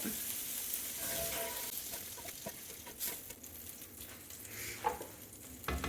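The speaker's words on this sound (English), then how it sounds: "While our shrimp is browning up in the other pan" Shrimp browning in a pan while a Cajun shrimp bisque is cooked, making a steady, fairly quiet sizzle with a few scraping clatters from the stirring.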